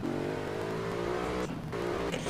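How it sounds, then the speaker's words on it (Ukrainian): A car engine in the mobile driving game Grand Mobile hums steadily and close, rising and shifting in pitch as the car pulls away, with brief dips like gear changes. "Заводимо і їдемо"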